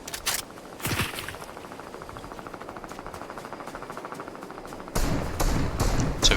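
Rapid bursts of automatic gunfire from a Fortnite match, a steady rattling stream of shots with louder, closer volleys at the start and again near the end, mixed with thuds.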